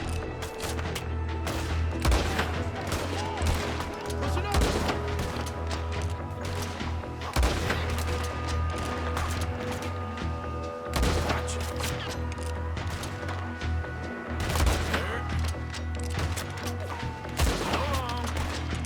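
Rifle shots in Red Dead Redemption 2 boom out every few seconds, loud and close, each a sharp crack with a rolling tail over a low ambient bed.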